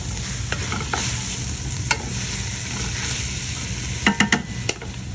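Food caramelizing in a hot pan gives a continuous sizzle and frying hiss, stirred now and then, with a few sharp scraping clicks and taps near the end.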